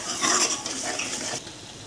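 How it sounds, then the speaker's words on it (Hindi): Masala for Punjabi chole fries in oil with a close, steady sizzle and the scrape of stirring in the pan, a brief louder hiss near the start before settling. "ये देखिए मसाला बहुत अच्छे से भून गया है और इसका तेल भी निकल रहा है।"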